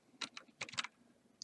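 Quick bursts of computer keyboard typing while entering an Excel formula, a few clustered keystrokes close up with short pauses between them.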